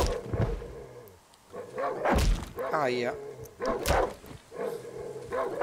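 Dog barking in the horror survival game Darkwood, harsh barks and snarls mixed with thumps and game noise, with someone talking over them.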